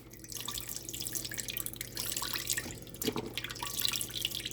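Chicken broth poured into a pot for Jamaican-style oxtails, a steady liquid splashing and dripping with a brief louder splash partway through, at a moderate level with no talking.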